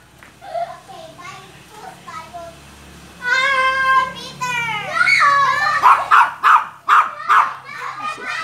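A dog gives a run of short, sharp barks amid a busy home scene, with children talking and playing close by before and between the barks.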